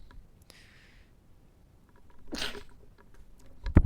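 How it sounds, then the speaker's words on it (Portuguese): A single person sneezes once, short and close, in an otherwise quiet room, with a few faint clicks and a thud just after. "Espirrei mesmo."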